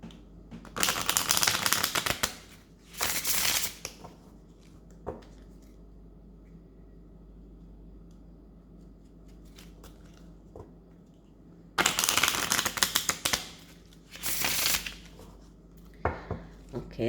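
A deck of angel cards being shuffled in bursts of rapid papery riffling and flicking, with quieter handling pauses between the bursts and no speech.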